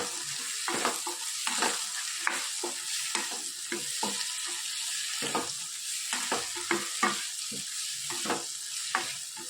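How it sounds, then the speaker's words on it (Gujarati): Cabbage, carrot and tomato are stir-fried with sautéed garlic and onion, giving a continuous close sizzle broken by repeated scraping and tossing strokes of a spatula against the pan. "લસણ અને ડુંગળી થોડાક સોટે થઈ ગયા છે તો આપણે કોબી, ગાજર અને ટામેટાં સરસ બધું મિક્સ કરી દઈએ"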